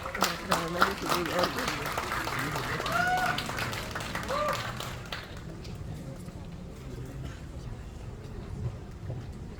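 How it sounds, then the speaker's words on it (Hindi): Audience claps to welcome a poet at an Independence Day poetry event, loud sharp claps at first that settle into a fading patter of applause over several seconds, with voices heard faintly underneath. "कृपया तालियों से उनका जोरदार स्वागत करें।"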